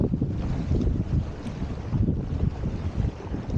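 A strong gust roars over a small proa under sail, steady broadband wind rush buffeting the microphone with water and hull noise beneath, loud and continuous with no voices.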